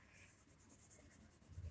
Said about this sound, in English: spread this pencil shade with paper